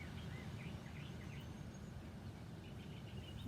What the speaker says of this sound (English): If you listen, you can hear the birds singing in my neighborhood.